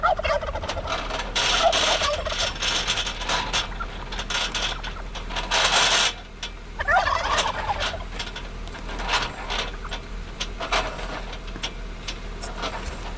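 Winch cable being pulled out on free spool after an overhaul, making a loud, continuous ratcheting, rubbing whir in uneven surges, with a brief pause partway through and no talking.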